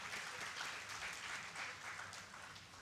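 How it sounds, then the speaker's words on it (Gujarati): A religious gathering's audience gives sustained applause honouring a group of swamis, a dense, even wash of clapping from many hands that stays faint and distant throughout. "એકવાર જોરદાર તાળીઓથી આખા મંડળને વધાવો"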